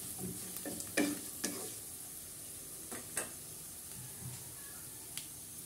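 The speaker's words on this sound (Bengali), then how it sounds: "আস্ত জিরা দেব কিছুটা। এরপর নেড়ে দেবো।" Whole cumin seeds fry and get stirred in a pan for spinach and kalai dal, a soft steady sizzle broken by a few sharp spoon clicks and scrapes, close and moderately quiet with no talking.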